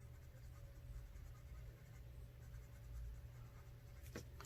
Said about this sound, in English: take your blender pencil,